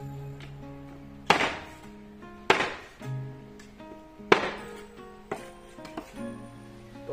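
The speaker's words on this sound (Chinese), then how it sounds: "这一只鸡剁了将近一盆" A cleaver hacks through a whole chicken on a chopping board for a home-style Xuzhou pot chicken, giving four or five heavy, spaced thunks with quieter taps and kitchen clatter between them, close and clear.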